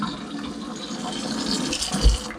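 A kitchen tap runs while someone washes their hands, a steady hiss of flowing water with soft splashing that grows slightly louder near the end.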